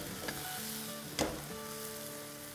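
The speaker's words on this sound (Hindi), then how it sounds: "अब कैबेज को हिला लेते हैं।" Cabbage sautéing with ginger and onion in a hot pan, a steady close sizzle with a brief scrape of stirring partway through, no voices.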